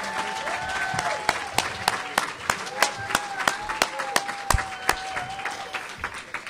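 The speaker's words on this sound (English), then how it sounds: "Let's give them one more round of applause" Audience applauding honorees at a Hall of Fame awards dinner, a sustained round of hand clapping from a crowd, fairly close and even, with a voice over a speaker system talking at the same time.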